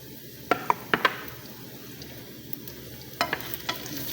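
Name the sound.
sautéing in garlic for callos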